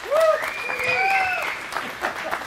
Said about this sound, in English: they deserve a round of applause because they lowered the soda pop tax in Arkansas